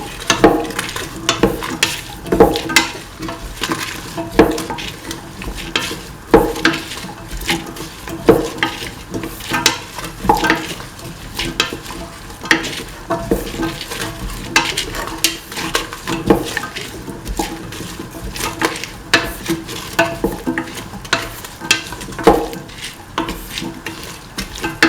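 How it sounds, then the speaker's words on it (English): Tomato pieces for a snake gourd coconut milk stew sauté in a pan, with steady stirring scrapes and a soft sizzle carrying through the whole stretch, punctuated by louder clacks of the spoon against the pan. "Now put in the tomato pieces. Keep on sauteing."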